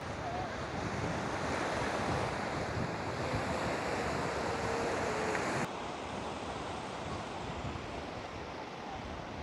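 Pacific Ocean surf rolls onto a beach in Peru, a loud continuous wash of breaking waves mixed with wind rumble on the microphone.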